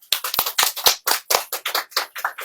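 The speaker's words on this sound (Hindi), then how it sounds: "देखिए अब ताली बजा दीजिए" An audience claps in about a dozen sharp, separate claps over a couple of seconds, fairly close and moderately loud, with no talk over them.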